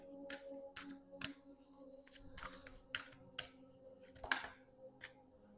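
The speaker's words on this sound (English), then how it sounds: "I can't shuffle like that." Repeated riffle bursts of a deck of cards being shuffled, several quick papery flutters in irregular rhythm, close and fairly soft over a faint steady background hum.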